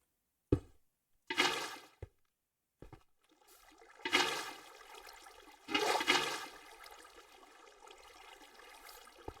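Water in Minecraft pours and splashes in repeated bursts, a few sharp clicks of block placement breaking up surging flows that swell and trail off into a steady trickle, close and with no talk.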